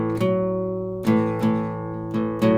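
Blues guitar riff played with a deliberately skewed, uneven rhythm: a few ringing strums spaced irregularly, some notes sustaining long while others follow quickly, close and alone without talk.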